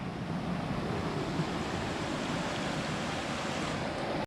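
A small creek on a forested mountain trail rushes and gurgles in a steady, dense wash of water noise that stays constant, with light wind buffeting, then cuts off abruptly at the end.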